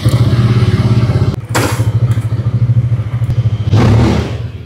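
A Zontes 400M motorcycle engine throbs loudly up close, its deep, pulsing idle rising in short revs twice, with no speech over it.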